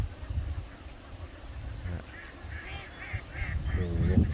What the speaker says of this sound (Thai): ตอนนี้เป็ดกำลังเดินเป็นทิวแถวนะครับ